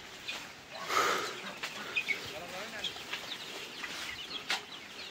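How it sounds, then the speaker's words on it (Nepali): Local chickens on a farm cluck and call in scattered bursts, moderately close, against a soft outdoor background with faint human voices. "ल लोकल कुखुराहरू यो चाहिँ।"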